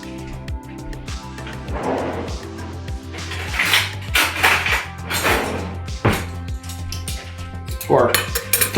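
A spoon clinks against dishes while cold brew coffee is prepared, giving scattered light metallic taps and scrapes over a steady musical backing.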